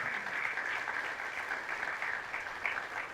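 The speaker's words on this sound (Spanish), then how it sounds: "Fuertes aplausos al Rey de Reyes y Señor de Señores." A church congregation at a Catholic service gives a sustained round of strong applause, dense steady clapping from many hands lasting throughout, without talk.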